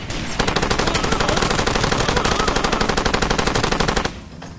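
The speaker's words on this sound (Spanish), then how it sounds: "al final me están disparando" Enemies in Far Cry 2 fire a rapid, loud burst of automatic gunfire at the player for about four seconds before it cuts off abruptly, leaving a faint tail.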